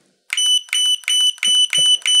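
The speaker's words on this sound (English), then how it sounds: "So that's where that beep can get annoying." Repeated electronic beeps from a Godox AD100 Pro strobe flash, six bright steady tones in an even rhythm, close and loud, with faint clicks between them.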